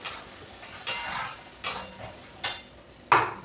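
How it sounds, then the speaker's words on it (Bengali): Spice paste fries in a pan under about five distinct spatula strokes, each a quick scraping swish, with a soft sizzle between them, close and fairly loud. "এই পেস্টটা এর মধ্যে অ্যাড করে দেবো। দিয়ে এটাকে খুব ভালো করে কষাতে হবে"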